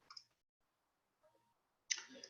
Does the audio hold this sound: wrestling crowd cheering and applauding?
no